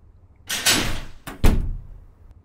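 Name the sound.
door being tried in video game Ao Oni 2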